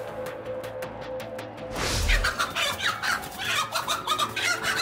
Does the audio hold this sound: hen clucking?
yes